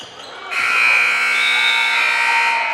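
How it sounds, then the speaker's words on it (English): A loud, sustained electronic buzzer blares to end a girls' JV high school basketball game at Otter Valley, steady for over two seconds over faint gym noise. "there is the buzzer signaling the end of this contest"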